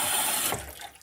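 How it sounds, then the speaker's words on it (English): A darkroom photo print is rinsed under a running kitchen tap; water gushes loudly for a moment and then tapers off into softer trickles and splashes. "just take it out, give it a little rinse under the tap"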